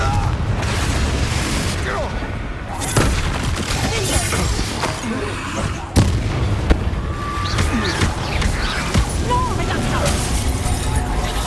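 A Confringo fire spell explodes in the Hogwarts Legacy video game, a sharp boom near six seconds among dense battle noise, with a voice talking throughout.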